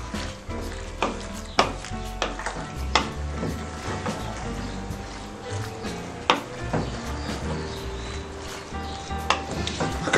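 Penne pasta being stirred into a meat sauce of dried beef, calabresa sausage and bacon in a pan: a steady sizzle with repeated scraping and clinking of the spoon against the pan, close and fairly quiet.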